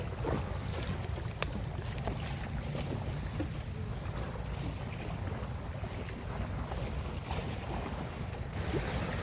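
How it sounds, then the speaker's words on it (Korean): Strong waves slosh around a small fishing boat out for mullet off Ganghwa Island, with a steady roar of water and gusting wind buffeting the microphone throughout. No one speaks. "아, 파도가 세요 파도가 세"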